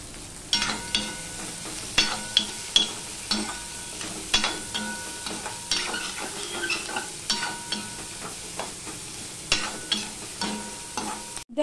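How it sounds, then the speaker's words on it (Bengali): Onions fry with salt in a pan for aloo tarkari, a continuous close sizzle broken by regular scraping stirs of a spatula. "দেখো পেঁয়াজটা লাল লাল হয়ে ভাজা হয়ে গেছে"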